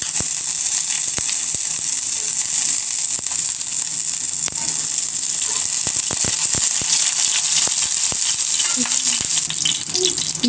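Whole spices and two bay leaves sizzle loudly in hot mustard oil with cinnamon and cardamom in a heated pan, a dense, continuous frying hiss close up, broken by scattered sharp crackles and pops.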